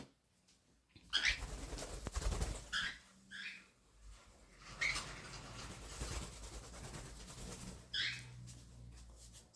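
A small pet bird flying loose indoors gives a few short, high chirps spread across a quiet room, along with soft fluttering and rustling between the calls.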